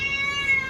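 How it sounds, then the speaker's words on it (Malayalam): A cat gives a brief, close meow, a single sustained tonal cry with no other sounds around it. "ഇതാണ് പൂച്ച."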